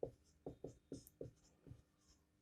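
A pen scratches out a written definition on paper in about eight short, close strokes with brief pauses between them and no talk.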